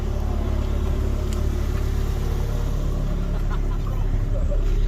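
Mazda RX-7 FC rotary engine running just after ignition, a steady low rumbling drone held at an even loud level close by, with faint background noise and no clear revving.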